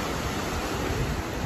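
Water released through the shutters of Sathanur Dam rushes steadily, a dense, loud, unbroken roar of flowing water with no other sounds.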